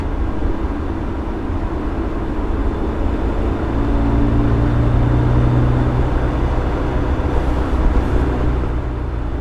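A BMW E30 M3 drives along the road, its engine and road noise forming a steady, loud interior drone that swells slightly through the middle, with no one speaking.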